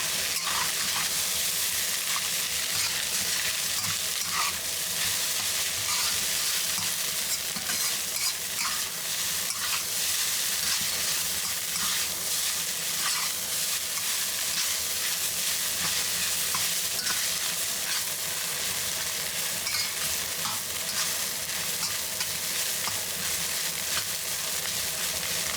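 Egg fried rice stir-fried in a wok over high heat gives a steady, loud sizzle and crackle, with constant scraping and tossing of the spatula through the rice and no voices.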